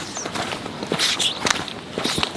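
Footsteps of someone walking in Crocs across a floor, a steady run of soft slapping, scuffing steps close by over a constant background hiss.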